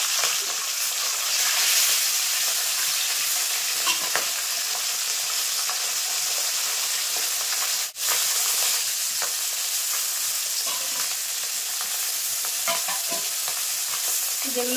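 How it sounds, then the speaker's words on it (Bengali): Fish frying in hot mustard oil in a heated kadai gives a dense, continuous sizzle with crackling spatter, loud and close, with no talking. "এখন মাছগুলো দিয়ে দেবো"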